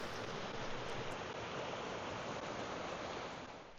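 Duke's Creek flowing in the woods of Smithgall Woods, a loud, steady broadband rush of water that holds constant throughout and eases slightly at the end, with no talking over it.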